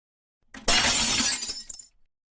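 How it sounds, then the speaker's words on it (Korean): A loud, sudden crash of a jewelry shop window shattering, followed by a brief spray of tinkling shards that quickly fades to silence. "금은방 유리창이 박살나며 폭발음이 인근 상가에 울려 퍼졌습니다"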